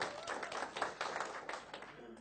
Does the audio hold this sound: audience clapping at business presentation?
yes